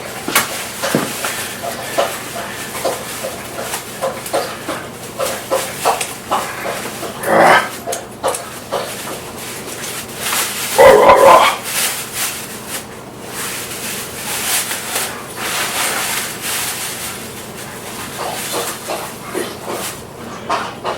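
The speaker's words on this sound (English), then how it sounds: "the dogs just came in from their walk" Household dogs just back from a walk bark and whine intermittently in a kitchen, with a couple of louder outbursts standing out from the continuous background clatter and movement.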